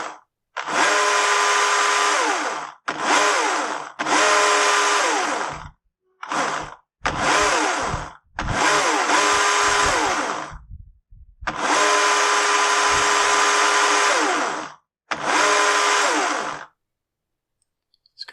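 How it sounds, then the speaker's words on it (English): Husqvarna 120i battery chainsaw with a fault that makes it run erratically: its motor whirs in a series of uneven bursts, some short and some several seconds long, separated by abrupt silences. The sound is close and loud, with no voices. "Today we're going to take a look at a Husqvarna 120i battery-powered chainsaw. Customer complaint is that it runs erratically."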